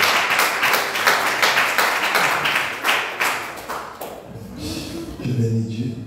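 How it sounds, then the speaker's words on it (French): Church congregation applauding during a Sunday service, a dense wash of clapping for the first four seconds that thins out as a voice takes over and a low musical tone rises underneath. "Acclamons vraiment pour la gloire du Seigneur."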